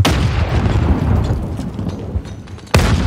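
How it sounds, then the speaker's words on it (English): A grenade blast in Call of Duty Warzone on Rebirth Island lands as a loud, close boom with a rumbling tail, then a second sharp burst hits near the end. "Grenade out."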